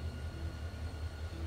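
A train in The Walking Dead video game rumbles steadily at low pitch, a continuous rolling drone with faint rhythmic pulses, moderately loud and with no talking over it.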